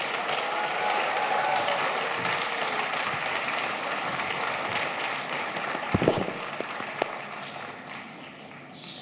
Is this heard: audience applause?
yes